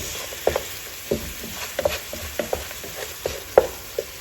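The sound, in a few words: frying masala gravy for salmon fish biryani in a pan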